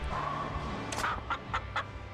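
A chicken clucks in several short bursts, moderately close, over a steady background hum.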